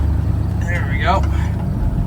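An old project truck pulls away in second gear, its engine giving a low, steady rumble close by, with a person talking over it.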